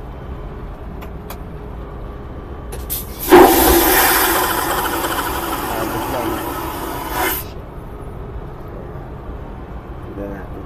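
Airplane lavatory toilet flushing with a sudden loud vacuum whoosh that hisses for about four seconds before cutting off abruptly, set against faint cabin hum, with brief talk around it.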